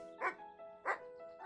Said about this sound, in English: There was a dog, and it was a bit further away this time.